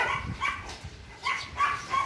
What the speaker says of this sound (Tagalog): dami nilang aso guys oh